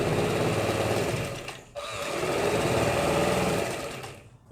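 A sewing machine stitches close along a zipper in a steady, continuous whir with a brief pause partway, running loud and near with no talking.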